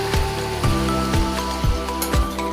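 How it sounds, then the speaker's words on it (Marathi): Two spoonfuls of water splash into hot chicken curry masala, giving a wet, bubbling hiss close by, with repeated dull spoon knocks against the pan and no voices. "आता मी यात 2 चमचे पाणी टाकणार आहे"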